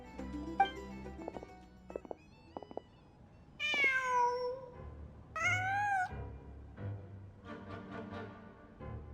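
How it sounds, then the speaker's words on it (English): A cat in Genshin Impact lets out several drawn-out meows, separated by brief soft clicks and quiet gaps, close and clear against a faint low ambient hum. "Just a cat."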